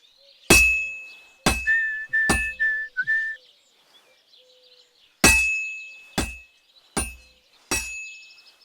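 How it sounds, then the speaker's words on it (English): A blacksmith's hammer rings against a blade at a medieval forge in Kingdom Come Deliverance II: seven loud, bright metallic clangs in two bursts with a pause between, each ringing briefly, with a short whistling tone in the first burst. "Now take the hammer and try hitting it a few times."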